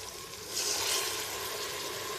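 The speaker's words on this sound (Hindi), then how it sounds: "अभी हल्का सा पानी ऐड करेंगे" Water is added to a cooking pan with aloo palak, a potato and spinach dish; a steady hissing, splashing wash of liquid swells at about half a second and stays level and close until the end.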